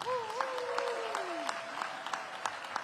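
Faint, scattered applause from an audience at a press briefing for a deputy mayor, with a voice speaking over the clapping near the start and a few distinct claps standing out.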